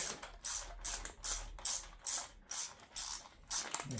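A spanner tightens a bolt on a BarkBuster Norden 901 handguard, giving a close, quiet series of rhythmic ratcheting clicks in short bursts, about two per second.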